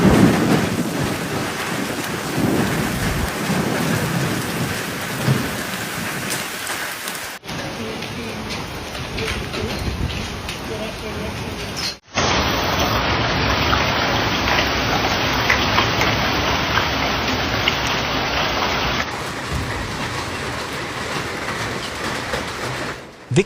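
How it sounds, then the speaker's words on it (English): During a hailstorm in Melbourne, heavy rain roars steadily with low rumbles of thunder, a dense, loud wash of noise that continues unbroken across several cuts. "This is a storm."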